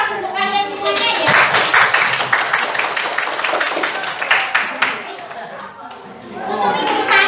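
A classroom of students claps in a lively burst of applause for several seconds. The clapping thins out, then picks up again toward the end.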